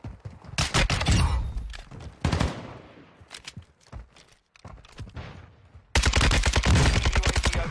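Rapid bursts of gunfire from a shooter video game against bots, loud crackling volleys broken by short pauses and then a long sustained barrage near the end.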